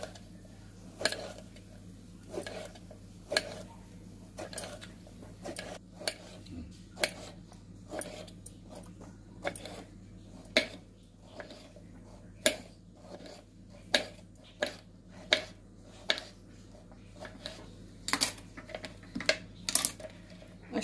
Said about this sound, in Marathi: हे जे गिलके आहे त्याचे गोल गोल काप करून घ्यायचे